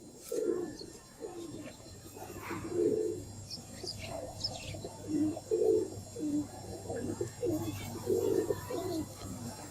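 Pigeons coo in repeated low, throaty phrases with faint chirps above, close and steady throughout with no talk.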